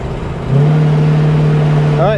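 A 1973 Cadillac Eldorado convertible engine, just fitted with a new carburetor, revs up loudly on a test drive, holding a steady strong drone before a rising and falling rev at the end.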